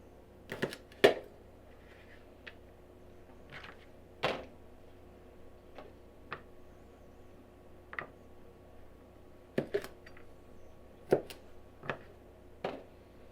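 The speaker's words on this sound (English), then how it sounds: "So now I'm going to chop all my green beans to this size." A knife chops green beans on a cutting board in a quiet kitchen, with sharp, irregularly spaced cuts, about a dozen crisp taps that stand out clearly against near silence, with no talking.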